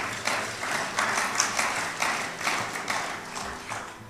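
Graduation audience clapping together in steady unison, about two claps per second, repeated for roughly four seconds at moderate distance with no talk.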